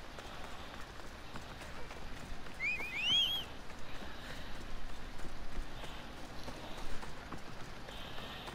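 Horse galloping in the ancient Greek setting of Assassin's Creed Odyssey, a faint rapid clip-clop of hooves running steadily under quiet game ambience, with a brief high whinny-like cry near the start.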